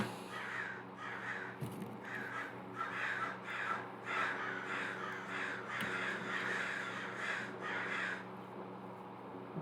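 Several crows cawing outdoors, a regular series of harsh calls about once a second over a steady background hum, moderately near and fairly loud.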